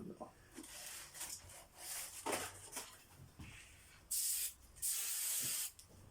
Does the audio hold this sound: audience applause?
no